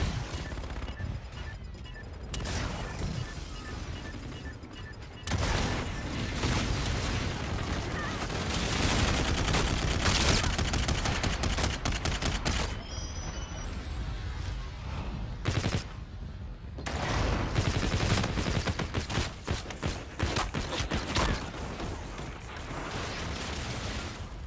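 Gunfire in the Call of Duty Infinite Warfare video game, long bursts of loud automatic fire and repeated shots with mechanical clatter, dense and sustained with brief lulls between volleys.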